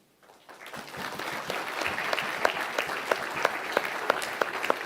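Audience applause at an awards ceremony as a winner walks to the stage, building quickly into sustained clapping from many hands, with a few louder individual claps standing out in a regular pattern.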